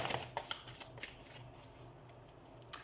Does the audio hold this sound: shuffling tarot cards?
yes